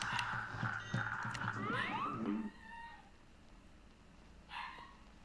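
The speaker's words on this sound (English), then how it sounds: "If you hear barking, obviously it's a dog." A dog in the video game Cuphead barks and yelps up close, a few sharp barks followed by rising, whiny cries, then quiet until a faint yip near the end.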